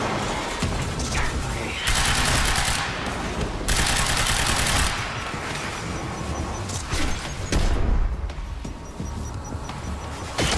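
Heavy gunfire in the action game Quantum Break: loud, sustained bursts of automatic fire with sharp shot transients and crashing impacts, continuous through the whole stretch, with no voices.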